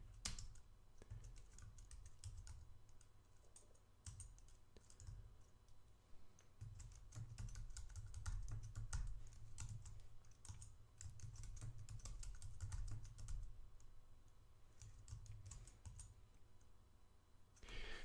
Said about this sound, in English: you notice it didn't show anything on the screen while I was typing the password